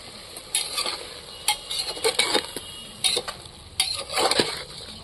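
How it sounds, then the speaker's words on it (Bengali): Water with ground green chili and ginger paste goes into spices frying in a pan for a jackfruit curry, raising bursts of sizzle and hiss among clinks and scrapes of stirring, with no talk. "এইটা কাঁচা লঙ্কা বাটা আদা বাটার জল আমি দিয়ে দিচ্ছি"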